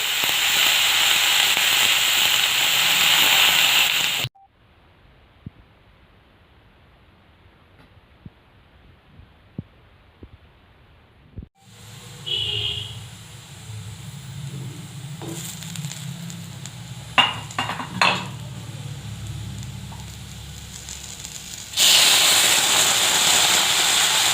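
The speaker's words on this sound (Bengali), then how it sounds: "কাঁচা আলু এটা, তো সেটা তেলে দিয়ে একটু নেড়ে নেব" Raw potato pieces fry in hot oil with a loud, bright sizzle that cuts to near silence. The hiss then returns more softly with scattered scraping clicks of stirring before the loud sizzle swells again.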